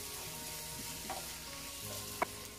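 Seasoned vegetables with a Maggi stock cube sizzle in a frying pan, a steady close hiss with a few soft scrapes and taps from stirring. No one speaks over it.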